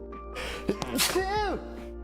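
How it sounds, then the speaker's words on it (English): One big sneeze bursts out sharp and close, preceded by a sharp intake of breath and followed by a person's groaning voice. "Oh, that was a big sneeze."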